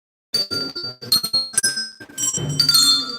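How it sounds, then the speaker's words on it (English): A handheld bell rings at an exhibition event, several bright metallic rings and tinkles in quick succession with overlapping tones, close and clear. "So just try and bring the bell, just hold it up in the air and just give it a shake."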